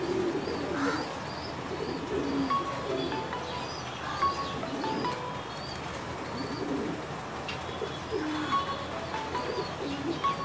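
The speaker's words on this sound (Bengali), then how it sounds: "আপনাকে একটু এগুলো একটু রাগী কবুতর বলা যায়" Agitated pigeons coo and rumble repeatedly inside a crowded pigeon loft at a Dhaka pigeon market, layered murmurs and occasional chirps over a busy ambient background, with brief wing flutters.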